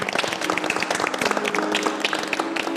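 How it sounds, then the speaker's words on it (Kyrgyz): An audience claps for a professional live musician at a studio show, a dense burst of close applause with rapid overlapping claps throughout. "кол чаап коелу"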